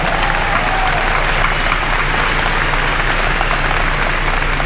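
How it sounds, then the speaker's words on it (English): At a high school graduation ceremony, a large audience claps steadily for the graduating students, a dense, loud wash of applause with a constant low hum underneath. "Let's give them all a round of applause."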